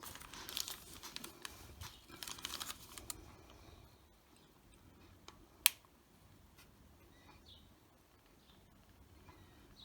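Quiet crinkling, tearing and snipping of covering material being trimmed on a Vintage Model Company Fokker Dr1 model aircraft, busiest early on, then sparse soft rustles with one sharp click near the middle, no talking.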